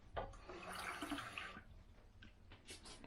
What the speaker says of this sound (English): A little bit of cold water.